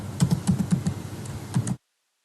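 Close, fairly loud typing on a computer keyboard while entering C code, a quick run of keystrokes with a short pause before a final burst, then silence.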